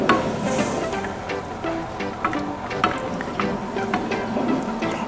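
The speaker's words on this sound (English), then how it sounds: "We keep on stirring while we add it. We add the milk." Bechamel sauce being stirred in a pan as milk goes in, with soft scraping and light bubbling close up and small clinks from the utensil, no voices.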